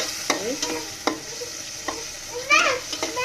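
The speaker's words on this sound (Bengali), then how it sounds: "আমি একদম মশলাগুলো কষাই ফেলবো। তেল ওঠা পর্যন্ত, তেল উঠে যাচ্ছে আস্তে আস্তে।" Spices being stirred and fried in oil until the oil separates, with steady sizzling and several sharp scraping strokes of a spoon against the pan at an uneven pace, close and fairly loud.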